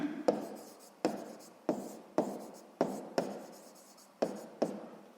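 Chalk taps and scrapes on a board in quick strokes, about eight sharp onsets spaced roughly evenly, each trailing off in a soft rasp, close and alone.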